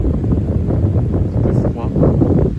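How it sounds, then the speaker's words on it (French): Strong west wind gusting at around 50–60 km/h in cold open air, buffeting the microphone as a steady, loud low roar with surging gusts throughout. "Bonne rafale quand même. Il souffle jusqu'à 50-60 km/h."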